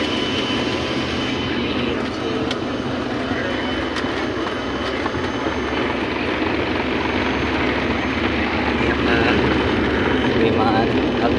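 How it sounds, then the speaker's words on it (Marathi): Steady loud broadband roar of an airplane on its takeoff run for a Tirupati to Kolhapur flight, heard from inside the cabin as a continuous engine drone with a low hum and no distinct pauses. "आपला विमानाने उड्डाण केलेलं आहे."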